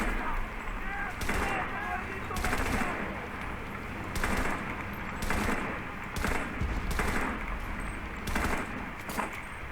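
Bursts of MG13 machine gun fire in the video game Enlisted, with several evenly spaced volleys repeating across the clip over a steady layer of battle noise, loud and close, with voices talking underneath.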